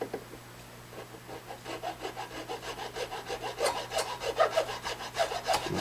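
A file rasps back and forth across a plastic guitar nut in a steady run of about fifteen close, scratchy strokes that grow slightly louder, with a low hum underneath and no talking.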